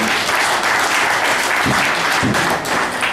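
Poker tournament audience applauding the chip leader at the 2010 World Series of Poker Europe main event final table: dense, loud, sustained clapping throughout, with a couple of dull thumps.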